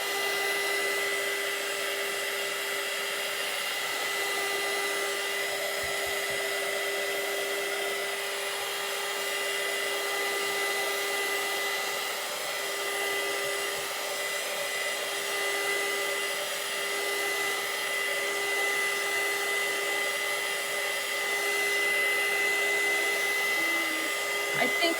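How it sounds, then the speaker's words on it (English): A blow dryer runs steadily and close by for the whole stretch, a constant whirring hum drying chalk ink on a t-shirt, alone with no talk over it. "You could use a blow dryer."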